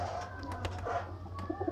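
A breeding pair of Sialkoti pigeons coos softly in short repeated calls over a steady low hum, with a few brief sharper sounds between the coos.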